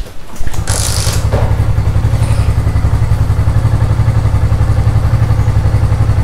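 A motorcycle engine settles into a steady idle after starting up, a loud, close, even chugging pulse with a brief clatter at the start.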